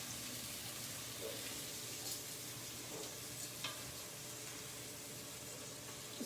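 Onions and garlic fry in a pan with a steady low sizzle and occasional scraping stirs, faint and continuous in a home kitchen.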